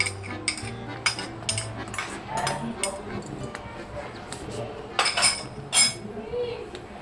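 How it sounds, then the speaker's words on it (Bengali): A spatula stirs jhinge aloo paste curry in a pan, making sparse metallic clinks and taps against the pan. The sounds are scattered and irregular, with a soft voice in the background. "এভাবে আস্তে আস্তে নাড়তে হবে, মাঝে মাঝে নাড়তে হবে।"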